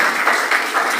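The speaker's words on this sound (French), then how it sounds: "Applaudissez le Seigneur maintenant" A church congregation applauds at a 21st-anniversary celebration service, a brief, steady wash of dense clapping with a few swelling bursts and no voices on top.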